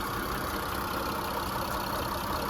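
A 2013 Mitsubishi Outlander engine idles with a steady, even rumble and hiss, constant throughout with no revving, no abnormal noises and no voices.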